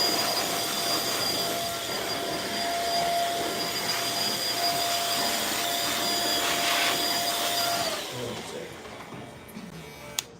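Saber hair clippers run at 7,200 RPM during a haircut, a continuous close buzzing hum with a steady high tone that cuts off near the end.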